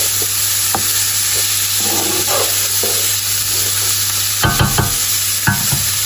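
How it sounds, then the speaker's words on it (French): Ground beef sizzles steadily in a pan for a creamy beef and cheese farfalle, with a spoon scraping and stirring through it in bursts, loudest near the end. "Voilà, notre viande, elle a commencé à griller."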